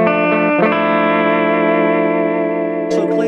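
A Gretsch 6130 guitar plays a clean tone through a small Crate amplifier with a light effects shimmer. One chord rings out and sustains for nearly three seconds, then a fresh strum comes at the end. No one talks.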